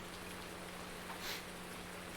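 Steady rain falls in the farming game Farming Simulator 19, a constant soft wash of drops on surfaces with a faint low hum underneath, even and unbroken throughout.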